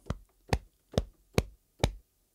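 Chest hits sampled and played from keys like a percussion instrument: five short, dull thumps in an even pulse, close and quiet, each decaying quickly into silence.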